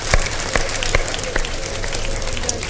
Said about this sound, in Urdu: ایک بار تالیاں بھرپور طریقے سے ضرور ان دونوں ماؤں کے لیے بجائیں